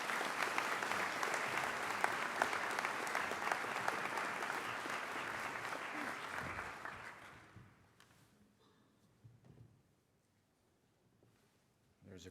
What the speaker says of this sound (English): Please give a big round of applause representing New Mexico State, Dr. Boberg.